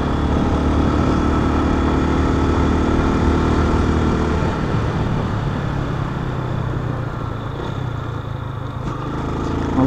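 A Yamaha Fazer 250 ABS motorcycle engine drones continuously while being ridden through a curve on uneven asphalt. The note is loud and close, easing slightly partway through with wind noise mixed in, and no one speaks.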